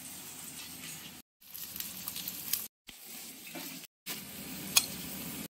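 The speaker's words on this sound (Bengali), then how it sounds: "করে নেওয়া হচ্ছে এবার পেঁয়াজের বেরেস্তা।" Onions frying into crispy beresta in a pan of hot oil, a steady close sizzle with crackles and stirring, broken by short silent gaps.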